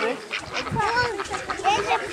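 Ducks quack at a farm pond, repeated nasal calls overlapping continuously while people talk nearby.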